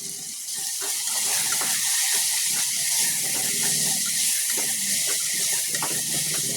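Water from a glass poured steadily over soaked rice in a cooking pot while making avarekayi tomato bath, a close, continuous splashing hiss that starts after a brief pause and runs unbroken.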